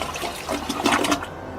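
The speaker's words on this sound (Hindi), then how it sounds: "थोड़ी ही देर में बाथरूम का फ्लश भी चला" A bathroom toilet flushes close by, a short rushing burst of water that swells and then drains away, with no voices.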